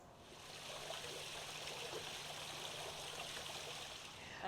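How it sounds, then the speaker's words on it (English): A backyard garden waterfall runs in a steady, continuous rush of splashing and trickling water, fairly close and unbroken from start to finish with no voices. "You can even hear the waterfall."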